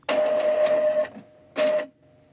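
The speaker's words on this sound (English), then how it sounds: "The printer will start making noise and the power light will begin blinking." An Epson printer runs a manual printhead cleaning, giving two mechanical whirring bursts with a steady tone, a long one and then a shorter one after a brief pause, close and clear.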